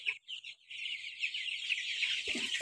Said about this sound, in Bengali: এই যে দেখেন এগুলো হলো টাইগার মুরগি, মানে সোনালী মুরগির মতো আর কি